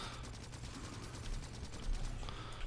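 Rapid gunfire bursts from the Factorio video game crackle in quick repeated pops over low rumbling game background, fairly faint and with no talking.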